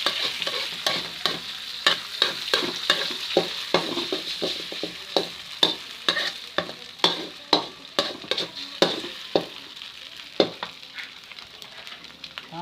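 Eggs being scrambled in a frying pan, a spatula clacking and scraping against the pan in a quick, fairly regular rhythm over a continuous loud sizzle, up close and without talk.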